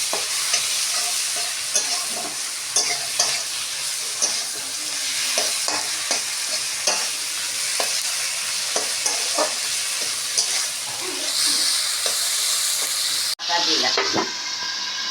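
Red chilli paste with cumin, bay leaf, black pepper and green chilli sizzles steadily in hot oil for a Bengali tangra fish curry, with scattered spoon scrapes and stirring clatter throughout, then a sharp drop and renewed sizzle near the end.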